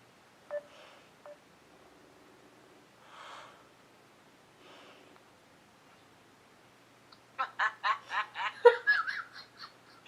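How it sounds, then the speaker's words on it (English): A phone beeps briefly as a video call is placed, followed after some quiet by a short burst of laughter and breathy giggling nearby. "I'm going to video call her."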